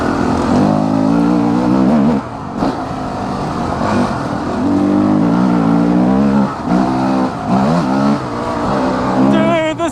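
A Honda CRF250X dirt bike with an uncorked exhaust and auto clutch runs under load while being ridden, its four-stroke engine loud and close, revving up and down through the gears, with a rider's voice faintly over it.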